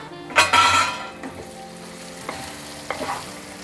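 Chopped broad beans tossed into a pan of softened tomatoes for a Telugu chikkudu curry: a loud splash of sizzle as they land, then a few scraping stirs and clinks over a continuing frying crackle.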